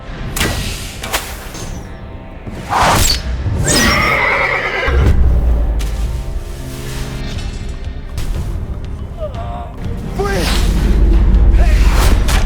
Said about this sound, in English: aimed at the galloping horse approaching from afar